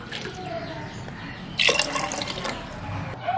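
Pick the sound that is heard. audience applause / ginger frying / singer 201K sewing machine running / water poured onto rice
water poured onto rice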